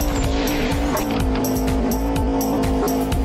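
Race car in a car stunt video game accelerating hard, its engine droning steadily at full throttle with repeated tire squeals and skids layered over a continuous loud mechanical roar.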